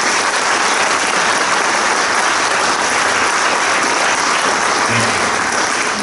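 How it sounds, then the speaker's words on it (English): Attendees at a zoning board of appeals hearing give a round of applause, a dense, even, continuous clapping heard close and loud with no talk over it. "I certainly would like to hear a round of applause for them"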